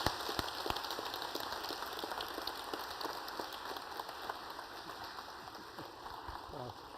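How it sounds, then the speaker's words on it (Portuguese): A church congregation applauds newly consecrated deacons at a Sunday service, a dense, steady wash of clapping from many hands that holds evenly throughout without fading. "Uma salva de palmas."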